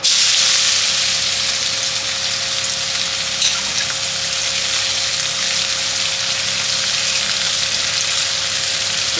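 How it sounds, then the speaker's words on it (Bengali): Onion frying in hot oil, a loud, steady hiss and sizzle that runs on evenly throughout, close and without voices. "পেঁয়াজটাকে দিয়ে দিলাম তেলের মধ্যে"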